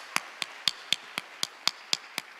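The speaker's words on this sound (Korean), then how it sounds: "하나님께 영광의 박수 드리겠습니다." Church congregation clapping in praise at a Korean autumn dawn revival service, ten crisp, evenly spaced claps in a steady unison rhythm, close and clear with no talk.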